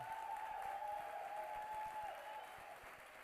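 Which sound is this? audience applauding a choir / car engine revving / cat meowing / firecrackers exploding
audience applauding a choir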